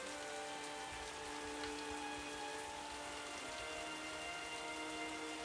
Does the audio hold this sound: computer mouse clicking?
no